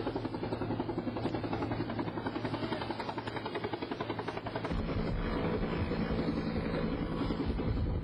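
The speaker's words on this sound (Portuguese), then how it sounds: "Aí vem chegando mais um helicóptero da Força Aérea" A Brazilian Air Force helicopter passes near the 1982 Vasp Flight 168 crash site in Pacatuba, Ceará, carrying a sling load beneath it, its rapid rotor chop holding loud and steady, then deepening and thickening as it comes closer.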